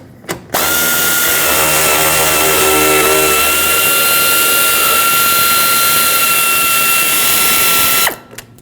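A power tool runs steadily for several seconds, spinning out 10mm bolts along the top of a 2013-2019 Ford Escape's radiator support, a loud continuous whir with a sustained tone, starting and stopping abruptly.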